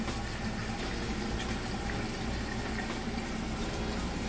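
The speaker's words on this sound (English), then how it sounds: "Just draining that water out, you can hear it." A Kenmore washing machine drains water after its wash cycle, giving a steady, even rush of flowing water and pump hum that runs unbroken throughout at moderate level, with no voices.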